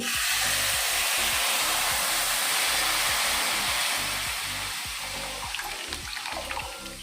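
Milk poured into a pot of tea on the stove, a steady broadband pouring hiss with low bubbling pulses, close and continuous for several seconds, easing slightly toward the end.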